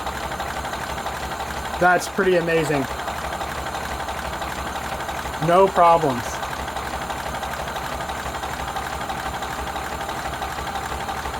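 A freshly rebuilt Ford Model A engine idles steadily on its first start with a rapid, even mechanical knock throughout, while someone speaks briefly twice over it.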